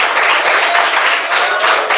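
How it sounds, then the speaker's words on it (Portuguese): Church congregation clapping hands together during a Pentecostal radio service, a dense continuous patter of many hands at close range with no voices over it. "Quem bate palmas?"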